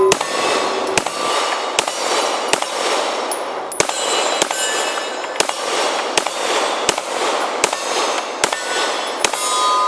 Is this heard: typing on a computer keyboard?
no